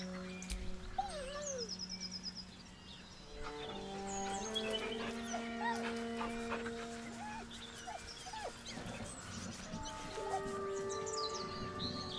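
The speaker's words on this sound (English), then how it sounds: "He whines, but remains rooted by the corpse's side." A dog whines and whimpers in Baldur's Gate III, a series of soft, pitched whimpers alongside birdsong and a steady game ambience, with no talk.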